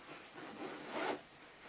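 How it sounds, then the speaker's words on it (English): The zip on the larger front compartment of a Defcon 5 daysack is drawn open in one soft, brief rasping pull, close and quiet. "Zips the majority of the way round, probably get maybe 2/3 of the way round this time."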